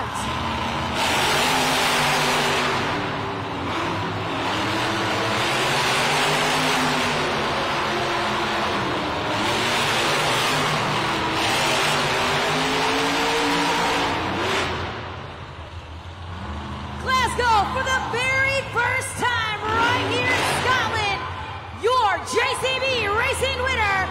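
Monster trucks racing head-to-head at a Monster Jam event in Glasgow, with loud, sustained engine roar and rising, falling revs filling the arena, then sharp revving bursts, under an announcer and crowd.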